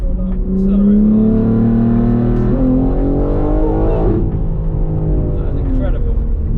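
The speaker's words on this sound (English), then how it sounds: "Press and hold cruise control up, accelerate hard." A stage 2 BMW M3 G81 with a custom exhaust and around 700 bhp accelerates hard from 30 mph on a straight road. The engine note climbs loudly and steadily, then shifts once and keeps pulling, with a voice talking over it.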